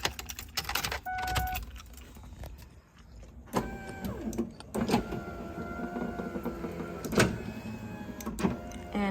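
A 1999–2004 Ford Mustang power window motor whirs in several bursts, with clicks, clunks and rattles between the runs, heard close up inside the car with no talking.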